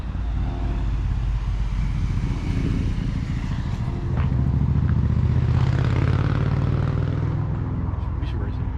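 A turbocharged BMW E36 with an M52 engine runs from a cold start, a dense continuous rumble with some rising intensity and a rough edge, while people talk over it.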